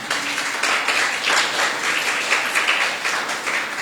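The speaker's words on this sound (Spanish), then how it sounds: "¿Cuánto le da un fuerte aplauso a Dios?" A congregation applauds warmly during a Sunday school church service in Mexico, sustained clapping from a crowd at moderate distance for a few seconds.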